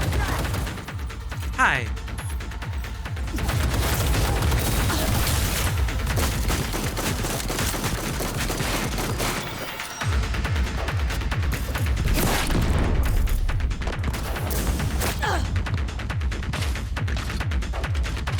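Sniper fire crackles in a shooter video game played on very hard difficulty, with dense, sustained shots and mechanical clatter. Someone talks over the gunfire throughout.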